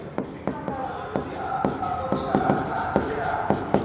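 Chalk or marker writing on a classroom board during an accounting lesson: a steady run of sharp taps and scratchy strokes roughly every half second, fairly close, over a faint room background.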